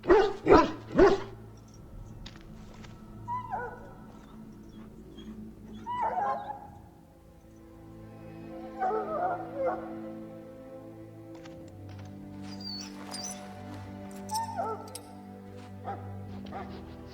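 In the video game Dragon Age Origins, a dog in a pen gives a few loud close barks at the start and then several softer whimpers and whines spread out over the rest of the stretch, over a low steady background hum.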